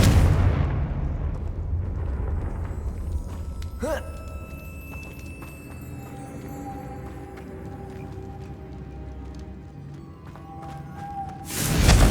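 A Confringo spell explodes in Hogwarts Legacy: a loud blast opens and a second burst closes, with a sharp crackling strike in between over a steady game rumble and a faint tone.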